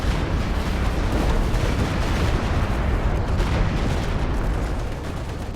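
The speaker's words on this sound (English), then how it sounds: "Slightly better walking Stuka hit there" Walking Stuka rocket artillery from Company of Heroes 2 striking in a dense barrage, a steady roar of overlapping explosions and rumble lasting several seconds, loud and continuous without talk.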